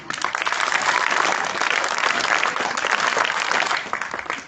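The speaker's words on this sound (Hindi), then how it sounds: "पहले स्काउट ताली बजाएंगे" Scouts break into sustained clapping at a community foundation-day gathering, a dense, steady burst of many hands close by that holds for several seconds before easing off at the end.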